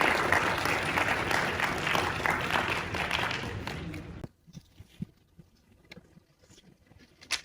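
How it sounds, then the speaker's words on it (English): Conference audience in Poznan, Poland claps for a guest speaker, a fairly loud burst of applause lasting about four seconds before cutting off, followed by scattered faint handling noises and shuffling. "please applause to our guest"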